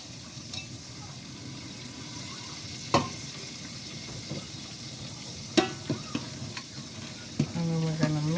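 Tomato sauce being stirred into a simmering cream and Parmesan pasta sauce in a pan, a soft steady sizzle broken by occasional spoon clinks and scrapes close by, with a brief voice near the end.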